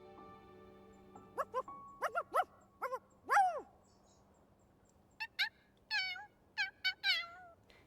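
A dog in the video game Infinity Nikki gives a series of short, sharp yips and whines, about a dozen separate calls in two bursts, close and clear over a quiet hum.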